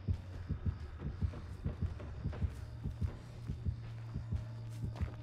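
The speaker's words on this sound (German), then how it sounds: "Der Puls wird höher." A video game heartbeat thumps in a steady, close rhythm over a low hum, the pulse quickening as it goes.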